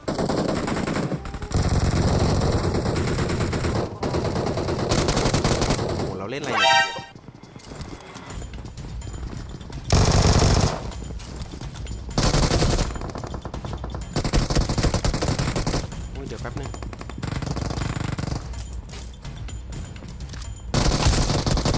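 Automatic weapons fire in PUBG Mobile comes as repeated loud bursts of rapid shots spread across the stretch, with brief gaps and other game effects between volleys.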